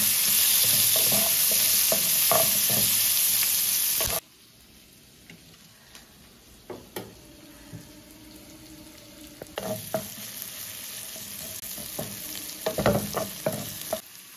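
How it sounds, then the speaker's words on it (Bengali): Sliced onions fry in hot oil for a brinjal curry, a loud hiss filling the opening seconds, then quieter sizzling punctuated by scraping stirs and clinks of a spatula against the pan, rising again toward the end. "এবার ওই তেলের মধ্যেই দিয়ে দিচ্ছি স্লাইস করে কেটে রাখা পেঁয়াজ। পেঁয়াজটাকে প্রথমে ভালো করে ভেজে নেব।"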